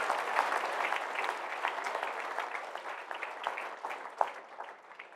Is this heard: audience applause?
yes